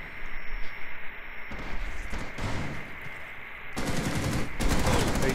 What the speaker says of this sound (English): Warden's shooting at Ace